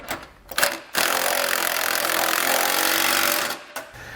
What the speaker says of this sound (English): These bolts are also going to get red Loctite, and then we can tighten them down using a 15mm socket and wrench.